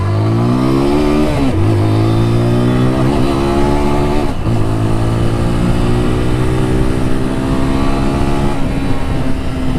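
A TVS Apache 200 4V motorcycle revs and accelerates up through the gears, its engine note rising and dropping with each shift, loud and close throughout with no talking.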